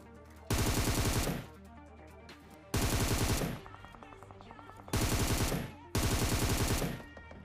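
Gunfire in the video game PUBG comes in four loud, dense bursts of rapid automatic shots, each under a second long, separated by short gaps with a faint lingering tail and no talk.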